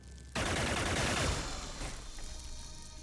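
Gunfire in the tactical game Xenonauts erupts suddenly as a dense burst of rapid shots, loud and close, then trails off into a fading rumble and echo without any talking.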